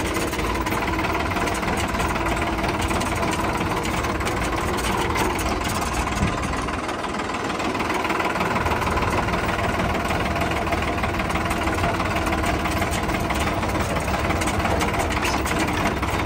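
The engine of a modified, turbocharged New Holland 5630 tractor runs nearby at a steady idle. Its rough, throbbing drone holds constant throughout with no voices.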